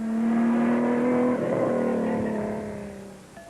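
Big off-road rally car engines race through mountain terrain, including a Nissan. A loud, steady engine drone holds near the start, then shifts pitch midway as a car passes, and the sound slowly fades away toward the end.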